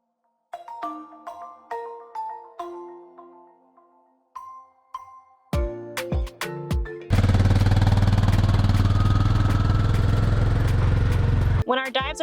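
Dive boat engine heading back to the dock near a small island, a loud, steady roaring drone that starts abruptly after a run of plucked, chime-like musical notes and cuts off near the end.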